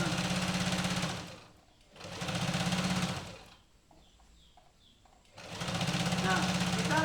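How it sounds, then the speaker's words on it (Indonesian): A sewing machine stitches clothing being altered at home in three loud bursts of running motor, separated by quieter pauses in which faint birdsong can be heard. "maka kita akan jahit dengan baik."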